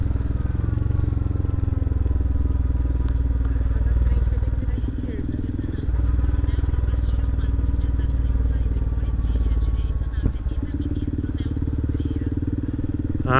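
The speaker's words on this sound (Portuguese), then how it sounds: "Ah, vendo as motos." Motorcycles rumble on a road in Sapucaí-Mirim, Minas Gerais, a steady, fairly close engine drone that runs the whole time with some clatter, while people talk over it.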